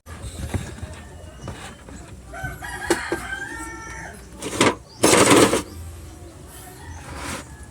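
Native chickens cluck and squawk close by, with a loud rooster crow breaking through midway, over a busy outdoor background.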